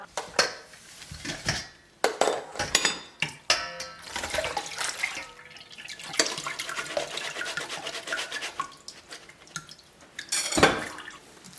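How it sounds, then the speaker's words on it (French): Tamarind pulp scrubbed and squeezed by hand in a bowl of water, giving wet squelching, dripping and splashing in irregular bursts, close and fairly loud with no talking. "J'utilise mes mains, je nettoie tout ça bien."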